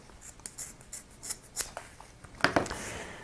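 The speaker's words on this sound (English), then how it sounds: "Just take a pair of scissors, cut it." Quiet snips and clicks of scissors cutting paracord, a scattered series of short sharp sounds ending in a couple of louder cuts.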